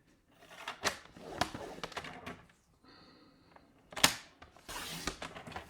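Paper being scored and cut for a handmade scrapbook album, heard as a series of sharp clicks, scrapes and snips at close range, with a short steady whirring stretch partway through and no talking.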